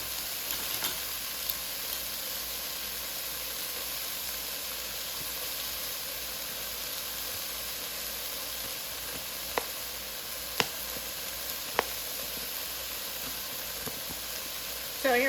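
Garlic sizzling in a soup pot with cumin, a steady low frying hiss throughout with a few brief utensil clicks and taps near the end.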